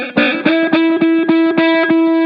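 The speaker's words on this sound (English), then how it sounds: "I'm going to lightly press on the string, and you're going to hear it buzz a little bit until I finally put enough pressure down" Guitar string played with a Black Mountain slide ring under light pressure, giving a rapid series of short, close, buzzy plucked attacks on one steady pitch before the note settles, played alone.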